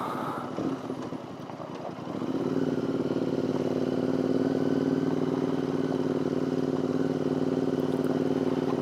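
A motorcycle rides along a loose gravel surface on a disused military road near Forcella Lavardet, its engine building after a couple of seconds into a steady, close, continuous drone with faint clatter underneath.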